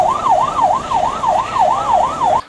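An ambulance siren wails steadily in a rapid rising-and-falling cycle on a national freeway near Taichung and Changhua, loud and continuous for the whole stretch before cutting off abruptly, with faint road rumble beneath.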